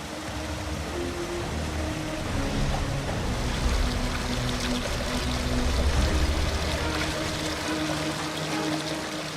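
Spring water from near the source of the Bagmati River flows toward Sundarijal dam in a continuous broadband rush, steady and fairly close, swelling slightly midway with no talking over it.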